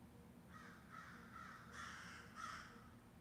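Several crows caw in a loose series of harsh calls, moderately distant and fairly faint over a low background rumble.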